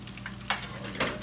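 Fish tempura frying in hot oil in a home kitchen alongside French fries, a steady close sizzle with two brighter crackling bursts, no talking.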